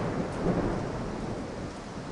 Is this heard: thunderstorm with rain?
yes